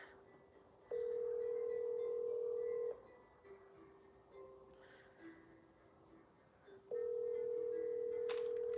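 A telephone ringback tone sounds during an outgoing call, two long steady tones separated by a gap of quiet room noise, fairly faint and with no talking.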